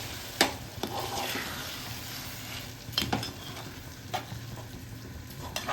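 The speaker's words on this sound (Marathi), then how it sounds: "यामध्ये आपण कोलंबी मिक्स केली आहे आणि आपण त्याला चांगलं एकजीव करून घेणार आहोत" A spoon stirs prawns into sizzling masala in a pan, giving a steady frying hiss broken by several sharp scrapes and clinks against the metal.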